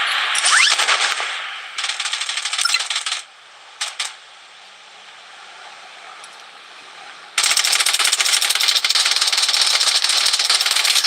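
Rapid automatic gunfire in the mobile shooter game Blood Strike, loud dense bursts that cut in and out, a few short isolated shots, a quieter stretch, then a long sustained volley to the end.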